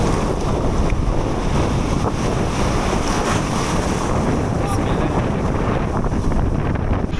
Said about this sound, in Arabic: داخلين بالجيت سكي في اعماق البحر وكيسخف الجيت سكي